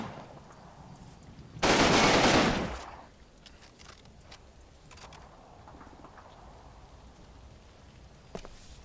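A burst of light machine gun fire in a multiplayer video game: one loud sustained volley lasting about a second, which then tapers off into quieter background game noise with a few faint clicks.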